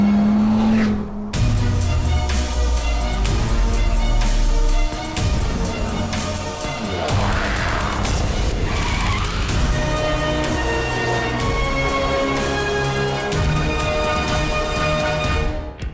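A Dodge Viper's 8.4-litre V10 roars loudly and continuously, with strained, squealing tyres and a rising and falling engine note.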